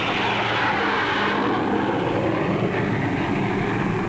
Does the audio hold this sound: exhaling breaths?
no